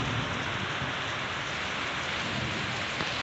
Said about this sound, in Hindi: और कितनी भयंकर बारिश पड़ रही है, तूफान चल रहा है